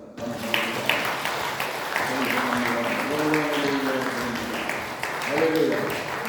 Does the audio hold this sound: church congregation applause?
yes